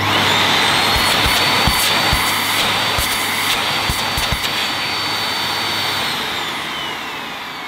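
A Miele Art vacuum cleaner runs without a filter, a loud, constant motor roar with a high whine, interrupted by a few thumps and clicks and fading slightly at the end.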